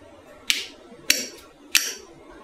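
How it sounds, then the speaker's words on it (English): The caramelized sugar crust on a coffee creme brulee cracks under a spoon in three crisp, evenly spaced taps, close and fairly quiet against a near-silent background. "it will also have this signature cracking sound of the caramelized sugar"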